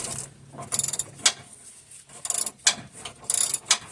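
A wrench with a ratcheting action tightens a bolt on a rear bumpstop against a vehicle frame, giving close, sharp clicks in short bursts with brief pauses between strokes.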